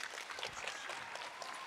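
An audience at an elementary school end-of-year awards ceremony claps for a group of second graders, a soft, steady patter of applause that sounds faint and distant throughout.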